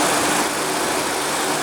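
A 2015 Lexus NX200t with a 2.0 L turbocharged four-cylinder engine runs with a steady, smooth hum for a brief moment, with no voices over it.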